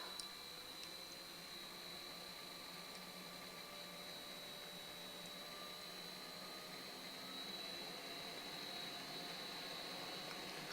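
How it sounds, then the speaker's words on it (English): A fan runs steadily behind an industrial pressure monitor, heard as a faint, constant broadband whir with a few thin tonal lines, unchanging throughout and with no talk over it. "you may hear the fan going a little bit in the background."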